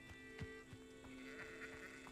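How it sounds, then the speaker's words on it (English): Sheep in the video game Hogwarts Legacy bleat softly several times in quick succession, faint and distant over a steady ambient hum. "Other than just some sheep."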